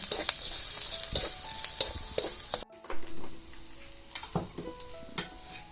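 Steady sizzling of tempeh stir-frying in a pan, with scraping and clinks of a utensil stirring throughout and a brief pause partway through.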